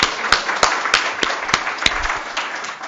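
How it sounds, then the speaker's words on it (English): Audience applause for a panelist at a seminar on girls' rights in war and conflict, a steady wash of clapping from a seated crowd with a few sharp, louder claps standing out, lasting the whole moment without talk. "So a big round of applause to Ulla."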